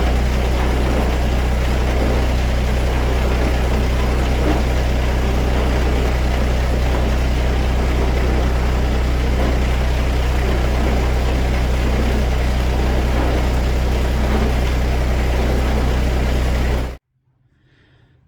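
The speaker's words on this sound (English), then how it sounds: "let's see if I can start up the snowblower" An MK Martin snowblower engine on a Massey Ferguson tractor running at a loud, steady, low idle for a long stretch, then cutting off abruptly into quiet.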